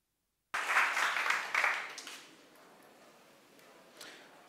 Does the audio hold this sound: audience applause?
yes